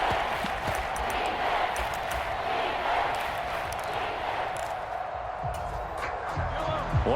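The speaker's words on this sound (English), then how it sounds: "the crowd getting into it as we come up on a big 3rd down" Stadium crowd at an American football game roars steadily ahead of a big third down, a dense, continuous wash of cheering and voices with no break across the stretch.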